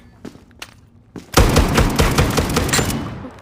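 Gunfire at a shooting range in the video game Zero Caliber: a few spaced single shots give way to a loud, dense burst of rapid automatic fire that continues to the end.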